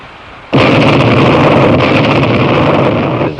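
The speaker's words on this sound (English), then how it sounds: "A moving shock wave is what you hear when there is an explosion." A sudden loud blast erupts and holds as a dense, roaring rumble that stays steady without fading.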